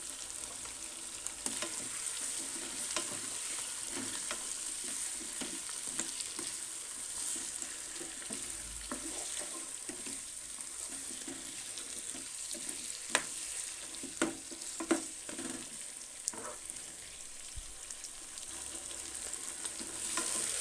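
Potatoes, whole green chilies and meat fry in a pot for palak gosht, giving a soft continuous sizzle with scattered scraping stir clicks throughout, fairly quiet and close, no one speaking.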